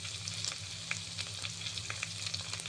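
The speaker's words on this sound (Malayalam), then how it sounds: "ഉലുവ ഒന്ന് പൊട്ടിക്കഴിയുമ്പോൾ വെളുത്തുള്ളി ഇഞ്ചി ചതച്ചത് ചേർത്ത് കൊടുക്കണം. എന്നിട്ടൊന്ന് വഴറ്റി കൊടുക്കണം." Crushed garlic and ginger sauté in hot oil with fenugreek for a Kottayam-style curry, a soft, steady crackling sizzle with small pops, quiet and close, with no talking.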